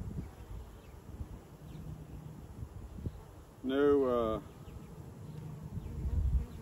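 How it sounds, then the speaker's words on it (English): Honey bees humming around open hives during an inspection, a soft, steady buzz underneath, with a louder bee passing close by briefly and a person speaking a short word. "Lots of bees here."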